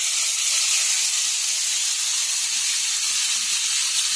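Ground amla paste hits a lightly oiled wok and sizzles with a steady, bright hiss, close and loud, holding evenly throughout without any talking over it.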